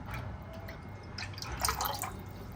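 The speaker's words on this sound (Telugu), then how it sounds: "ఇలా కడుక్కున్న నీళ్ళు పోసుకోవాలి" Water left from washing rice is poured into a container, giving a close, steady trickle and splash that swells briefly near the end, with no talk over it.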